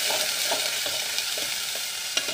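Fresh wild shrimp frying in a pan with onions, a steady loud sizzle throughout with soft periodic scrapes of a spatula stirring, no voices.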